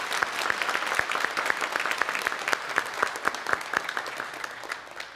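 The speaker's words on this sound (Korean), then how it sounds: "박수로 환영합니다." Steady applause from a church congregation welcoming newcomers at a Sunday worship service, with many hands clapping and a few sharp, prominent claps standing out nearby before it eases slightly at the end.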